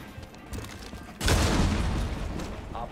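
A burst of gunfire in a Rainbow Six Siege-style match on the Border map erupts suddenly after a quieter stretch, a dense crackling volley that sustains and slowly fades, heard at moderate distance.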